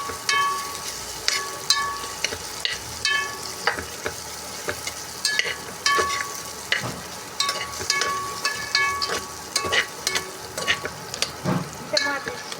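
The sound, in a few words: onions sautéing in a pan for sambar rice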